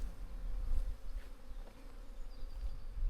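Honeybees buzz around a beekeeper, a soft continuous drone with individual insects passing close and drifting away, faint and steady with no talking.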